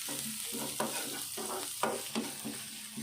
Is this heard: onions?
yes